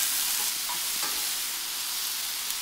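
Ratatouille vegetables, chopped tomatoes and tomato puree are stirred together in a hot pan, a steady, close sizzle with soft scraping from the spoon running without pause.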